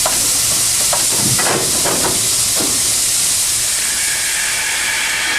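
Steady, loud hiss from an SY 2-8-2 steam locomotive working at the Tangshan coal mine, filling the whole clip, with a few brief chuffing bursts near the start.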